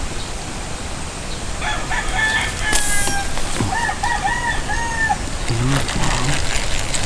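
A chicken or rooster gives a drawn-out crowing call and then a second one, mid-distance over steady outdoor noise and hiss, followed by a few low clucks.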